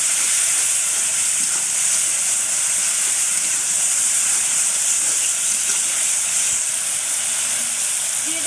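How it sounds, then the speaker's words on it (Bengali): Spices and fish masala frying in a pan, a steady, loud bright sizzling hiss that runs unbroken throughout, close up and with no talking. "এখন এগুলো খুব ভালো করে কষিয়ে নেব।"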